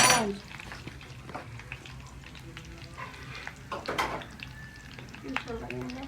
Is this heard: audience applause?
no